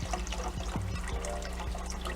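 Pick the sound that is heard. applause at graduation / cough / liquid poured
liquid poured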